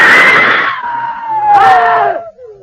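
Several people scream loudly together in a radio drama as an insect flies at them, a long shrill chorus that dips, then swells again into another frantic shriek before trailing off.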